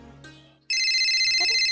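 A phone starts ringing with an incoming call, a loud, steady electronic ringtone that begins abruptly and continues, briefly preceded by a faint voice.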